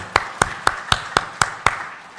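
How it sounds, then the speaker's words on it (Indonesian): Church congregation clapping hands in unison, seven crisp evenly spaced claps at a steady rhythm, sharp and distinct with a slight ring, then fading out. "Yuk, tepuk tangan untuk kemuliaan Tuhan."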